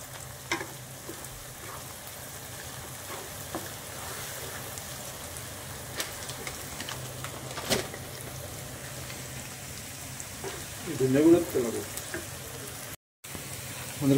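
Onions frying in a pan as a cook stirs them, a steady close sizzle with scraping stirs and occasional louder bursts, no talking.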